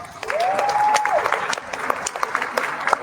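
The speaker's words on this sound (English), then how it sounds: "Please give a round of applause." An audience claps steadily at a community celebration marking Second Chances Month, dense applause swelling early and holding, with a brief whistle-like tone riding over the first second.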